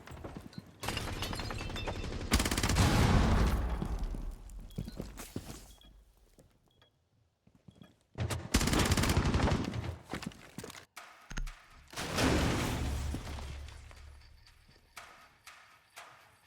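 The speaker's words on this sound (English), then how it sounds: "And then actually just starts shooting him through the wall." Bursts of gunfire fired through a wall in Rainbow Six, loud clustered shots in separate volleys with quiet gaps between them, mixed with footsteps and game effects.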